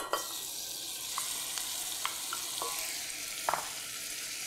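Onions and garlic sizzle steadily in a pan while being stirred, a constant frying hiss with occasional soft scrapes and clicks of the utensil, close up and without talk.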